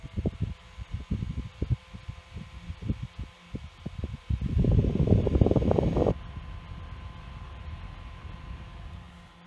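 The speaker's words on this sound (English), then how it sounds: "just a little 4-inch USB high velocity fan" Small purple Dollar General 4-inch single-speed USB high-velocity personal fan, starting after a run of clicks and taps and blowing a steady close whoosh for about two seconds before cutting off.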